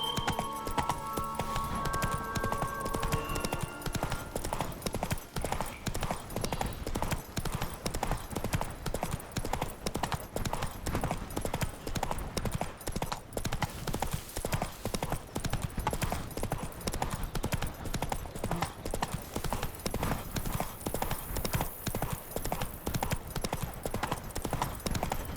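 Hooves of Roach, the horse in The Witcher 3: Wild Hunt, pound in a fast, continuous galloping rhythm, loud and close, with a brief whinny-like tone at the start.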